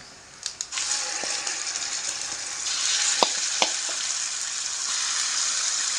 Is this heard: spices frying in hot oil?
yes